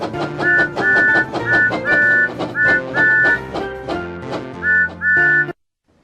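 Short bright train whistle toots from a Thomas and Friends Wii game sound again and again in quick bursts over cheerful game music, then everything cuts off to silence.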